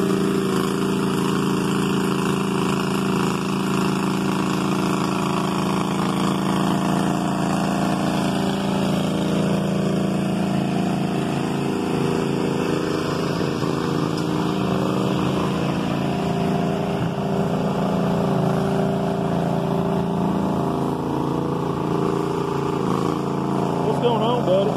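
A lawn mower engine drones steadily and loudly as the mower drives through mud, its tires caked in muck, with the motor holding a constant rumbling pitch throughout.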